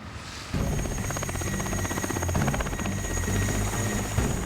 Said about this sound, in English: Helicopters taking us to opposite side.